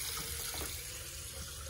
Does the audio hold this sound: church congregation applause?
no